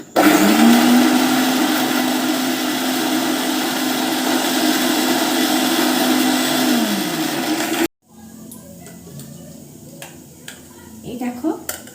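A mixer grinder whirs loudly and steadily for about eight seconds, blending ingredients into a paste, then cuts off abruptly, leaving quieter kitchen clatter and small clinks.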